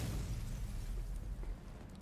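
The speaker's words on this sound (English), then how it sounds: "There's another explosion which sounds like it came from much closer this time." A heavy, sustained rumble of a nearby explosion in the video game Girls Frontline 2, a deep continuous roar that slowly eases off, with no voices.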